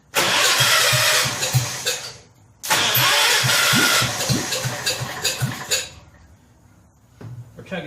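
The rebuilt Kohler K241 engine on a John Deere 210 garden tractor cranks and fires, runs roughly with a loud chugging beat, stumbles and drops off, then catches again and idles unevenly, close by with no talk.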